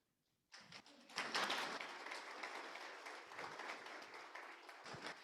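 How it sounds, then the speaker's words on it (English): Audience applause breaks out after a brief silence, a dense wash of many hands clapping that swells quickly then holds steady at moderate loudness for several seconds, with no speech over it. "That was a really wonderful place for applause"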